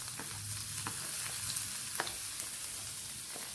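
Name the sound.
sliced ginger frying in hot coconut oil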